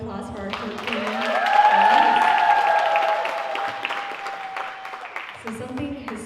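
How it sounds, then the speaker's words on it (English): An audience applauds a short film at the Viet Film Fest Trống Đồng Awards Gala, a swell of clapping that builds to a peak and slowly fades. A host's amplified voice sounds over the clapping, and a sustained musical tone hangs beneath it. "Another round of applause for our short film."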